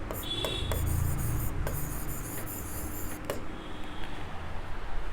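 Marker or chalk strokes squeak and rub across a classroom board during a science lesson, steady scratchy writing over room noise with no talk.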